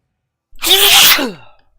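A single loud, close sneeze bursts out after a brief silence, then fades with a short breathy tail.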